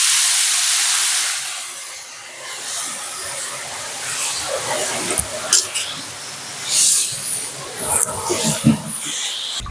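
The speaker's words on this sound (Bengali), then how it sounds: "এবার দিয়ে দেবো আদা আর কাঁচা লঙ্কা একসাথে বেটে নেওয়া" Ground ginger and green chili paste hits hot oil already tempered with dried red chilies, bay leaves and radhuni for village-style khichuri, giving a loud, steady sizzling hiss with bursts of spatter and stirring clatter up close.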